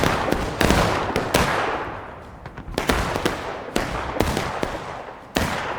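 Musket volleys in the War of Rights game, a Civil War battle between CSA and Union forces: repeated sharp gunshot cracks, some single and some in ragged clusters, loud and close, with more distant shots rolling in between.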